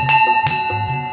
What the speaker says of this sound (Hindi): ये देखिए यहाँ पर एक अद्भुत घंटी बंधी हुई है जिस पर हाथी का चित्रण है